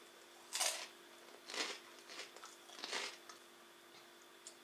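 Crunchy crayfish-flavoured corn rings being chewed close to the mouth, four distinct crisp bursts of crunching spaced about a second apart, loud against a quiet room with no talking.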